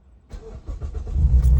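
A car engine cranks and fires up after its clogged catalytic converter has been removed from the exhaust. Silence, then a sharp catch at startup rising into a deep, loud, throaty idle rumble nearby.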